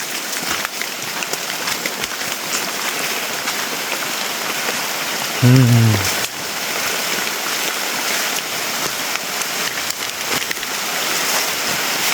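Steady, dense rain falling outdoors on a trek through the forest, a continuous wash of patter broken by a brief low thump near the middle.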